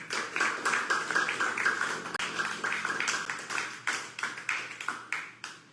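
Congregation in a church clapping, a run of sharp hand claps in a quick irregular rhythm for several seconds, fairly close and moderately loud, with no talk over it.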